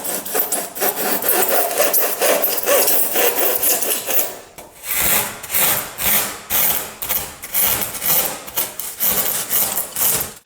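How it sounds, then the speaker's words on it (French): A hacksaw blade rasps back and forth through an insulation panel for a solar thermal panel build, first in a dense continuous scrape, then in distinct rhythmic strokes, close and loud with no talking. "on va y aller avec une lame de scie à métaux pour dégrossir."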